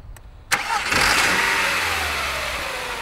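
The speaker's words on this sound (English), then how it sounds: "Right, Steve, can you start her up?" A car with a flat battery being jump-started from a donor vehicle: a couple of brief clicks, then the engine cranks and catches, revving up loudly and settling into a steady close running roar.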